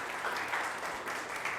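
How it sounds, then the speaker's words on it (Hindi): A church congregation applauds together, a dense, steady wash of clapping that holds at an even level from start to finish with no voices standing out. "आइए जोरदार ताली से उस खुदावंद यीशु मसीह को धन्यवाद करें।"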